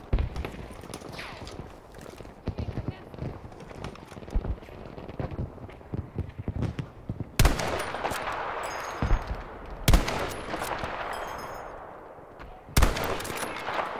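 M1 Garand rifle shots in Battlefield 5, several loud sharp reports spaced a few seconds apart, with scattered distant gunfire crackling throughout the battle.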